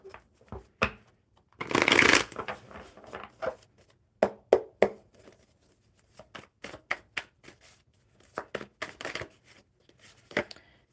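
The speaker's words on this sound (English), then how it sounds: "One more good shuffle and we'll see what we have for you." Tarot cards being shuffled by hand, a long riffling burst near the start followed by a series of sharp, close card slaps and taps scattered through the rest, with no talking.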